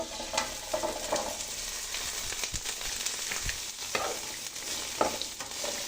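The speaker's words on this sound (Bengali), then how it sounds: "এখন আমি সবজিটাও দিয়ে দিব।" Vegetables fry in olive oil in a wok for restaurant-style fried rice, a steady close sizzle broken by repeated scraping and stirring strokes of a utensil against the pan.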